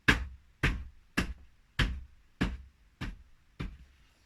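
Seven evenly spaced hollow thumps of hands striking a flat surface, mimicking a steady walking pace, close and alone.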